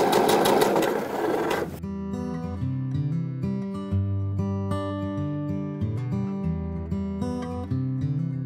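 Sewing machine stitching the side seam of a LAPELOSA dress, a steady close whirring run at even speed throughout, after a brief louder noisy start.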